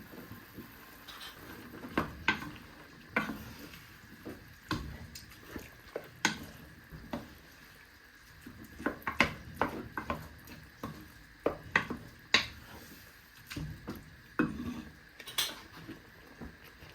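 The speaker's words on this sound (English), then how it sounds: "Then you're going to give that a bit of a stir." A spoon stirs tomato puree into a macaroni sauce in a pan, making a close series of scraping clinks and taps in an irregular rhythm, with a soft sizzle beneath.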